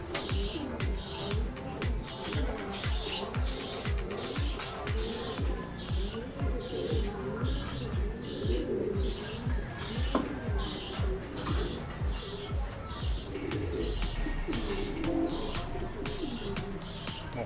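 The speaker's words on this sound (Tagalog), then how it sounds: "May ilang piraso na tayong mga alagang kalapati dito." Steady low cooing from several pigeons, overlapping and continuous throughout, with faint rustling and a rhythmic background chirp.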